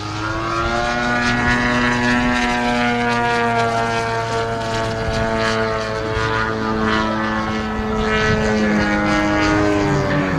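A model aircraft flies along an airshow flightline at Popham, its propeller engine giving a steady, loud, buzzing drone that holds for about ten seconds with slight shifts in pitch and no voices.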